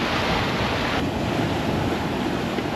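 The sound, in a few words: water rushing against the sailboat's stern skirt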